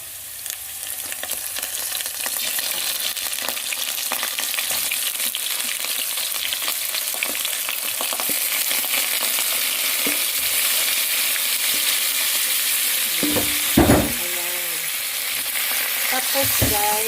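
Shrimp frying in garlic butter sizzle loudly and steadily as they are stirred, with a brief clatter of the utensil against the pan near the end.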